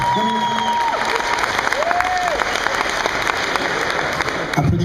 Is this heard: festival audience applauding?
yes